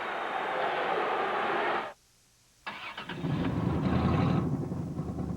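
A car engine with a bad muffler running loud and rough with a broad droning roar, cutting out briefly, then starting back up into a heavy rumbling idle up close.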